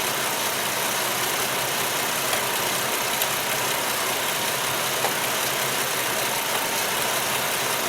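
A car engine idles steadily with its alternator working under full electrical load, a constant close broadband hum with no talk over it.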